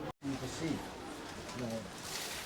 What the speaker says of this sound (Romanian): Oh, the pigeons are waiting for you.